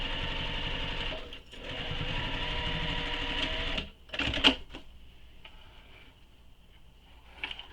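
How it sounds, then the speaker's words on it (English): A sewing machine runs steadily, stitching a row up a fabric tote bag, with a brief pause near the middle and a few clicks and handling sounds as it stops toward the end. "sew another row of stitching"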